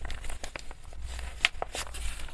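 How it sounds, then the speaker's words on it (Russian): Coloring book paper crinkles and rustles in short bursts as pages are pulled open, with a few sharper crackles, close and fairly quiet. "Сейчас попытаюсь как-нибудь книжку раскрыть получше."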